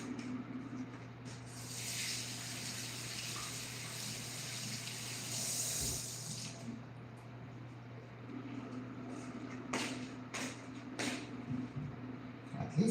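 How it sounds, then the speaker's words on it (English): A kitchen tap runs steadily as an eggplant is rinsed under it, a soft continuous splashing hiss that swells briefly, with a few sharp clicks and knocks near the end. "I'm gonna rinse it."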